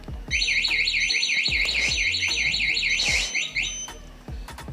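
A loud electronic motorcycle finder alarm on a Honda Supra warbles rapidly up and down in a high repeating siren pattern, continuing steadily for several seconds.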